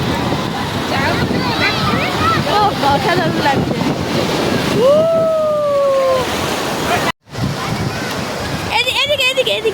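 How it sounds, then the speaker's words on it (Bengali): Strong sea waves breaking at Digha beach, a loud continuous roar of surf with wind buffeting the microphone, people talking and exclaiming over it, briefly cut off near the end. "এত জোরে জোরে ঢেউ আসছে গাইস"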